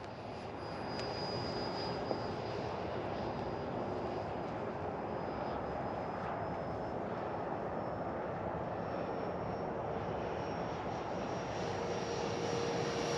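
Freewing F22 64mm electric ducted-fan RC jet in flight, a steady whooshing whine that holds a constant, moderately distant drone without a break and without any talking.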